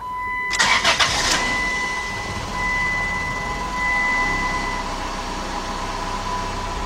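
A 2002 Dodge Stratus 2.4 engine, freshly fitted with a new timing belt and water pump, cranks briefly with a few rapid starter chugs, catches, then settles into a steady idle with a faint high whine, close and loud.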